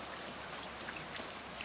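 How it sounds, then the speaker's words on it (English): Outdoors, steady rain falls in a soft, even hiss, with a faint bird chirp now and then rising above it. "With the birds singing still and the rain coming down"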